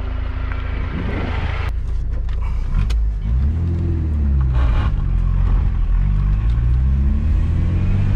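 A Tofaş Şahin with a 1.8 LPG engine climbing a winding mountain road, its exhaust giving a steady, close, low rumble with shifting revs and gear changes, occasional creaks from the car, no talking.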